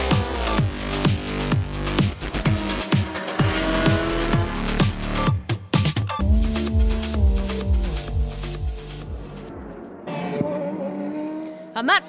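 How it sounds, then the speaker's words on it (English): A Rebellion prototype race car roars past at the 2014 6 Hours of Spa WEC endurance race, its loud engine climbing through rapid gear shifts before fading into the distance, with crowd and track ambience behind it. "that's the Rebellion racing car as we rejoin the action"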